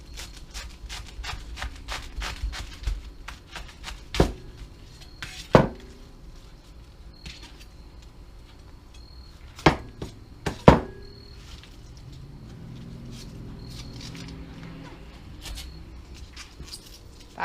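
A knife cuts a cabbage into thick steaks on a board, giving scattered soft cuts and a few sharp, loud thuds spread out over a quiet background.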